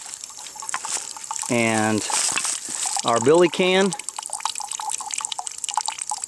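Water drips and trickles through a charcoal emergency filter into a billy can, with soft, steady droplets under a man's nearby speech.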